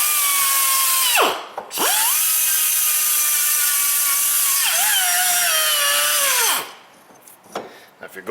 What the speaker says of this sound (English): if you're going through the rotary file